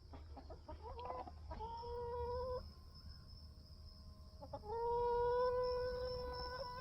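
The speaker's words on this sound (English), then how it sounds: "I'm gonna go check on the chickens." Hens cluck and squawk close by, a string of short calls and longer drawn-out clucks over a low steady hum, with no talking.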